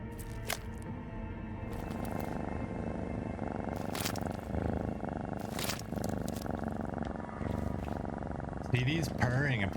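A pet cat named CD purrs steadily and softly close by, a continuous low rumble running under ongoing talk and background game sounds.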